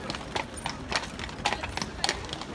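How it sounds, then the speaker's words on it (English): Horse hooves clip-clop at a steady walking rhythm on the paving of Krakow's main square, a moderately near series of hard knocks over open outdoor ambience, with no talking. "and the horse is going around."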